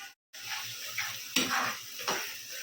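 Meat sautés in a pan with a mixed paste of turmeric, chili and coriander powder and salt, a soft sizzle broken by a few sharp scrapes of the spoon, quiet and close, with no talking.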